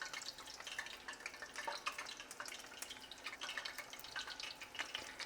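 Corn fritters deep fry in oil, a steady crackling sizzle of fine pops and bubbling, fairly quiet and continuous with no voices.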